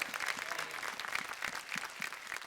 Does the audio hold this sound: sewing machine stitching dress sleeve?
no